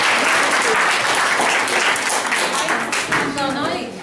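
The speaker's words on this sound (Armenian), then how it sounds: "ծափահարենք նրանց" An audience applauds children on stage, dense steady clapping from many hands filling the room, with a voice joining over it near the end.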